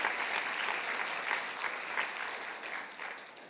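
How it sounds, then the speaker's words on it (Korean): A church congregation at a Korean youth church service claps together, a brisk burst of applause that starts full and gradually thins and fades toward the end. "우리 박수하겠습니다."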